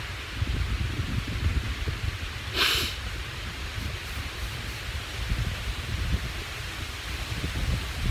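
Wind gusts build outdoors on a hiking trail, a steady broadband rush with rumbling low buffeting and one brief sharper gust partway through, and no talking.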